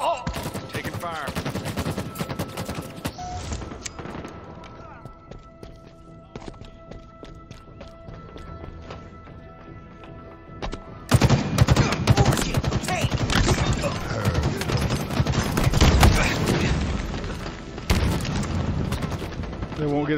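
Video game gunfire crackles in dense bursts, with a long stretch of scattered shots followed by a louder, sustained barrage in the second half, all mixed with game effects.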